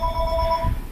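A mobile phone rings indoors with a steady electronic two-tone ring, close and clear, lasting most of a second before cutting off over a low background rumble.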